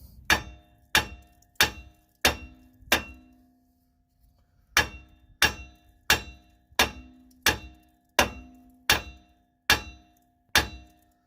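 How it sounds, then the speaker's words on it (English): A big hammer strikes a ball joint stuck in the steering knuckle of a 1999 GMC Yukon 4WD, giving loud ringing metallic clangs in a steady rhythm, with a pause of about two seconds between two bursts of blows. "how we're going to do that is this big hammer. We're just going to sit here and wail on it for a while until it comes out"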